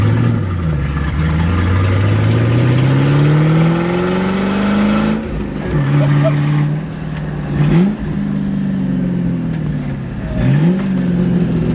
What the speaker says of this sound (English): we are driving the car, about to get on the road right now